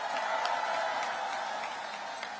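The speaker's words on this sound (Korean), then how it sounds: "박수 한번 쳐주세요." Crowd clapping at a public political gathering about a city mayor, a soft, steady spread of many hands heard somewhat distant and fairly quiet, with no speech over it.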